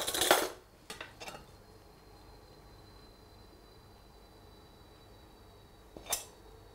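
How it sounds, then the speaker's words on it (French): A spoon drops minced braised beef cheek into a baking dish over a layer of mashed potato: one sharp clatter, a couple of lighter clinks, then near silence until a final faint click. "On va ajouter une cuillère de hachis."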